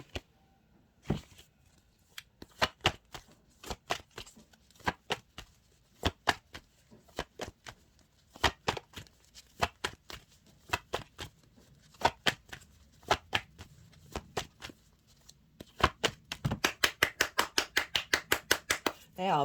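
A tarot deck being shuffled to draw a final card, a long run of crisp, close slaps and riffles in irregular bursts that grow denser and quicker toward the end, with no talking.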